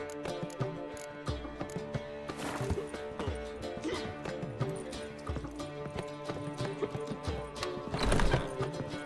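Roach the horse galloping in The Witcher 3, rapid rhythmic hoofbeats thudding continuously with whinnies and neighs breaking through, over game music.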